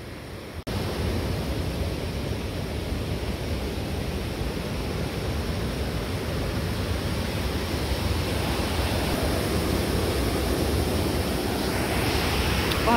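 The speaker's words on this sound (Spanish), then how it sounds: "aquí donde venimos está bien fuerte la corriente del río" A strong river current roars steadily and loudly up close, a dense, unbroken wash of noise.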